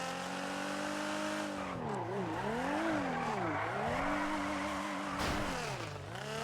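A car engine in GTA V on the NoPixel roleplay server hums steadily and loudly, its pitch swooping down and up in repeated waves as the throttle lifts and reapplies, with a brief rough burst near the end.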